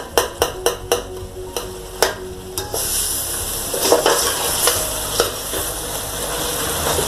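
Tomatoes for a chicken pulao are stirred and fried in a pot. A quick run of sharp spoon taps against the metal opens the sound, followed by a steady close sizzle with occasional scraping clinks and no voices.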